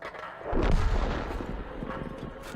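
A tank artillery gun fires in the World of Tanks video game as the 105 leFH18B2 self-propelled gun, producing a heavy booming report followed by a rumbling decay that lingers for a couple of seconds.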